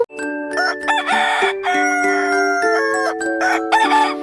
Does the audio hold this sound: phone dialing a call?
no